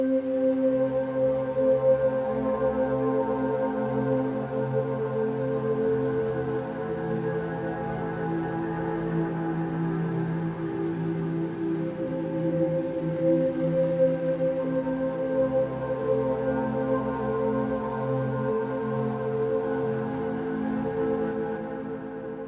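A generative ambient pad atmosphere built in the UVI Falcon synth, in a future garage style, sustains as a smooth, layered tonal drone that holds steadily for over twenty seconds with gentle swells and no talking.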